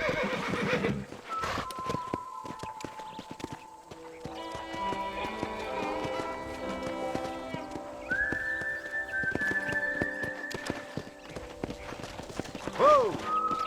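A horse in the Western video game Red Dead Redemption clip-clops along at a steady pace under layered game music, then gives a loud, close whinny near the end.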